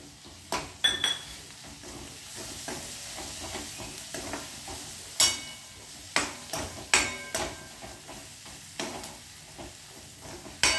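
Ground masala sizzles in a pan over a low flame while cauliflower dry bhaji is being made, with a steady soft fry broken by sharp spoon scrapes and clinks against the pan.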